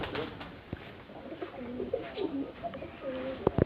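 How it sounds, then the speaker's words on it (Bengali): Young pigeons kept at a family home coo in low, repeated phrases, close by and fairly steady, with a few soft clicks and no talking. "এইগুলো হচ্ছে আমার কাকির কবুতরের বাচ্চা"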